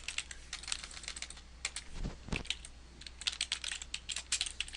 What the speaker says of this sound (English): I usually type a note that says dental movements